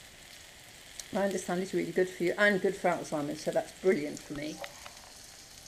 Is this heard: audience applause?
no